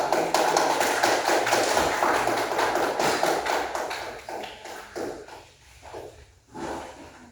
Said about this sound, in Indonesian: Kasih aplaus dulu, kasih aplaus.